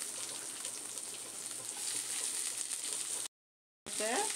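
Thinly sliced onions sautéing in hot oil for an onion masala, a steady close sizzle and crackle that runs continuously, broken by a brief gap near the end.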